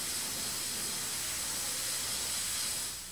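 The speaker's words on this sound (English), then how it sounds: "The artist sprays a special grit out of a nozzle at high pressure." A sandblast artist sprays special grit at high pressure from a nozzle onto a stenciled granite slab, making a continuous broad hiss that holds steady and then tapers slightly at the end.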